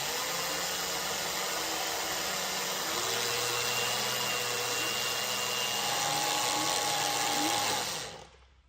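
A standard power drill turning over an FV4005 tank engine whines steadily under heavy load for several seconds, grinding and straining, then winds down and stops near the end.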